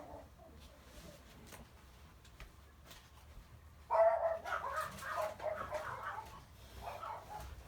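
Several dogs bark in a burst of sharp, repeated yelps and woofs from somewhere nearby, starting suddenly after a quiet stretch and continuing in uneven clusters, moderately loud and slightly muffled as if behind a door.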